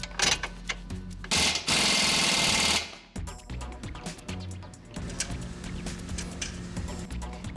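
Loud bursts of a power tool rattle up close as the lower strut mounting bolts are tightened on a 2001 Toyota Camry CE, with one long sustained whir between shorter clattering runs and tool clicks.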